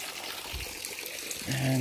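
Water flows with a steady broadband rush on Mount Banahaw, a continuous hiss close to the microphone, with a voice starting briefly at the end.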